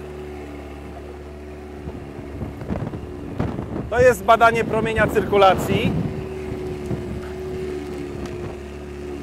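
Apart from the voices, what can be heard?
motorboat making a sharp full-rudder turn on a river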